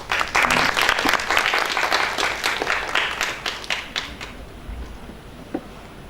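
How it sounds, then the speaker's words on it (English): Applause from an audience at the 5th International Conference on Materials and Metallurgical Engineering, a burst of many clapping hands that is loud at first and then thins out and fades to a few scattered claps. "Let's give a round of applause."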